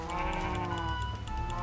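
Sheep in the video game Minecraft bleat over a steady hum of game sound, with short repeated calls across the moment and no talking.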